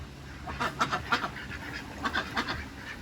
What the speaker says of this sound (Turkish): bu ördekler de çok. Her yer ördek.